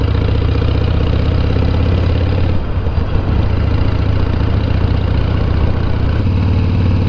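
A motorbike engine idling steadily and loudly close by, a low continuous throb with a brief dip midway and no talk.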